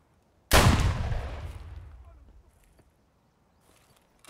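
A single loud in-game P226R pistol shot cracks close by, its sharp burst decaying over about two seconds into near silence.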